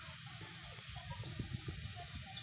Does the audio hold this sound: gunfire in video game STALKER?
no